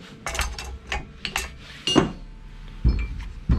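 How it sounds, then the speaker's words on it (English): A Yamaha T700 motorcycle shock fitted with an uprated spring is lowered and taken out of a shock compressor, giving a few close metallic clinks and knocks spread over several seconds. "So we're just going to lower that down and remove it from the shock compressor."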